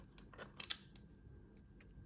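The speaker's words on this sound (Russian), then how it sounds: "убираю ткань маленькими ножницами, чтобы выровнять поверхность" Small scissors trim fabric on a handmade Christmas tree ornament, giving a few quick, faint snips close up against a quiet background.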